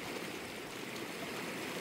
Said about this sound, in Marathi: आपण पाहणार आहोत आज स्वच्छंदपणे वाहणारं निसर्गाने दिलेलं हे पाणी